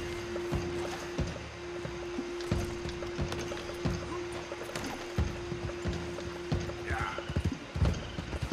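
Horse hooves clip-clop in steady rhythm as a rider travels in Red Dead Redemption 2, close and moderately loud over a constant game hum, with a brief splashy burst near the end as if crossing water.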